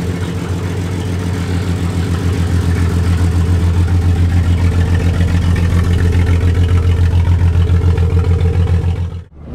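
Old pickup truck engine running on a drive, a loud, close, steady low rumble that holds evenly throughout before cutting off abruptly at the end.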